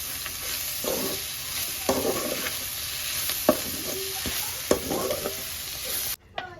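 Vegetable fried rice with coriander being stirred in a pan: a steady sizzling hiss with irregular scraping strokes of the spatula against the pan, close and fairly loud, then cutting off abruptly near the end.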